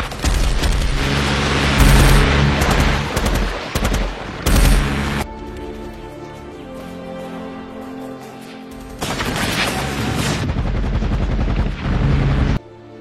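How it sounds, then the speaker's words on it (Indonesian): Bursts of loud, rapid gunfire ring out as special forces raid an armed cartel's base, pause briefly, then resume in a second heavy volley before cutting off. "melepaskan tembakan serbu ke arah mereka"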